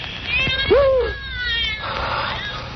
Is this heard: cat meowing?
yes